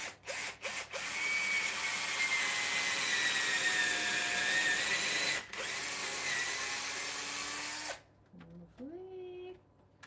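A power drill bores into a roller skate boot, running loud and steady for several seconds with a short pause partway, then cuts out and winds down to a whirring stop.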